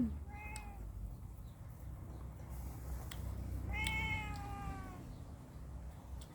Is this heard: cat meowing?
yes